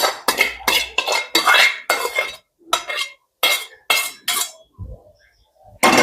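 Boiled macaroni pasta stirred together with gravy in a pan for cheesy macaroni, giving a run of close, sharp utensil scrapes and clinks against the pan in irregular bursts, with short pauses between strokes.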